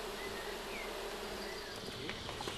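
Honey bees at an open hive make a dense, continuous buzzing hum, with individual bees whining past close by over the steady swarm drone.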